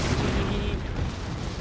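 Artillery fire in the Napoleon Total War video game, a short dense burst of booming gunfire rumbling loud and close, with no talk over it.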